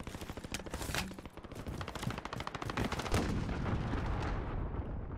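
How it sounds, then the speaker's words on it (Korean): Missile launch in the video game Call of Duty: Modern Warfare, a loud, dense roar of rapid gunfire and blasts that builds and rumbles steadily for several seconds, with no talk. "미사일 발사!"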